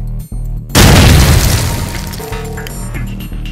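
A grenade blast in a real-life GoldenEye 007 game recreation hits as a sudden loud boom after a brief lull, followed by a long, decaying crackling rumble with scattered debris-like rattles, and music or background noise continuing underneath.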